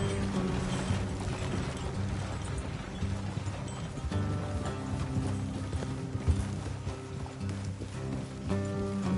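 Horse hooves in a video game clip-clop at a steady walking rhythm alongside creaking tack and wooden rattles, moderately loud and continuous.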